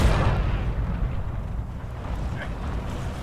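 Katyusha rocket artillery firing in the Forgotten Hope 2 video game, heard as a continuous loud, rumbling roar that stays heavy throughout with no pauses.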